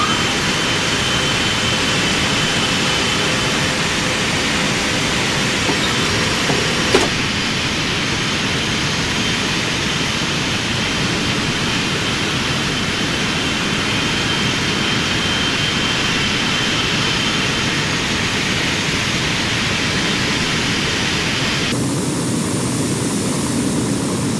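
A jet airliner takes off at Athens International Airport, its engines roaring loud and steady at close range for a long stretch, the broadband thrust noise holding constant before shifting in tone near the end.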